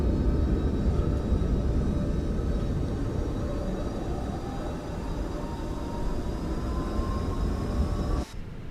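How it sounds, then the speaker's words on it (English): An auxiliary power unit spools up on a Fenix A319 airliner parked on the apron in Microsoft Flight Simulator 2024, giving a loud, steady rumble with a faint rising whine that runs continuously before cutting off near the end. "All right, APU starting up, fantastic."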